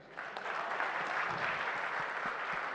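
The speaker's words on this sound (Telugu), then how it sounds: "ఈ సినిమా క్లాప్స్ కొట్టరా," An audience breaks into applause, a dense, steady wash of clapping that starts abruptly and holds at full strength throughout.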